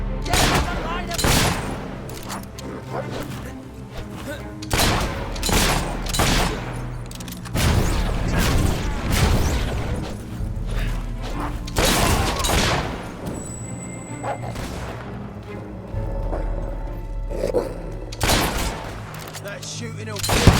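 Gunfire in the video game Fable 3: repeated loud shots and bursts ring out at irregular intervals over a continuous game soundscape, with voices speaking at times between the blasts.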